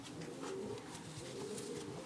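A young pigeon of a few months coos softly in a loft, low gentle murmuring calls faint beneath a steady rustling background.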